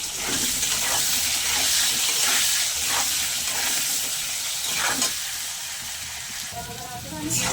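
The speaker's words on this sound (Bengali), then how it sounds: "আলুগুলোকে আমি একটু লাল লাল করে ভেজে নেব।" Steady, loud sizzling of potatoes with salt and turmeric frying in hot oil, a dense crackling hiss throughout with occasional brief bubbling pops.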